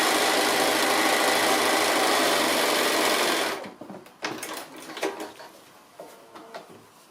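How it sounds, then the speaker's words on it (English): A sewing machine stitches a fabric tote bag panel, running loud and steady for about three and a half seconds, then stopping, followed by soft handling clicks and rustles of the fabric. "I'm going to sew the back part of the bag underneath that as well."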